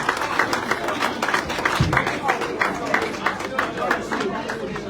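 An audience at a port authority leadership handover ceremony applauds with dense, steady clapping and crowd chatter, holding at a moderate level for the whole stretch.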